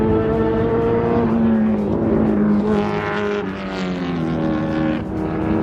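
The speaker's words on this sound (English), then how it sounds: "this Boss 302 sounds amazing. It's probably the loudest car here." A Ford Mustang Boss 302 engine at a race track track day, loud and sustained with steady harmonic drone shifting pitch as it passes, no talking over it.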